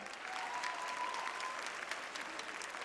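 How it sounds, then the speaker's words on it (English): Audience applause fills the hall at the Miss Universe 2009 preliminary competition, a steady, dense roar of many hands clapping, distant and sustained, with a faint voice briefly over it. "Also, please give a round of applause for the lovely Paula Sugar, the President of"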